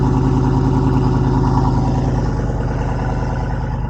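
Cold start of a 2023 Jeep Wrangler Rubicon 392 V8 exhaust: a loud, close, rumbling idle with a steady low throb and a brief flare near the start, no talking over it.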